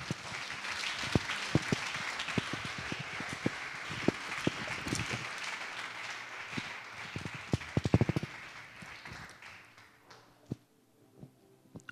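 A church congregation claps and cheers in praise of God, a dense round of applause with sharp individual claps that fades out toward the end.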